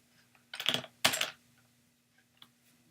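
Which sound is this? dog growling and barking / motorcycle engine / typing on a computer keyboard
typing on a computer keyboard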